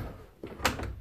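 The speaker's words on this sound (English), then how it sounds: "Closed door." An indoor house door shuts with a short, close thud followed by a faint latch click, heard alone in a quiet room.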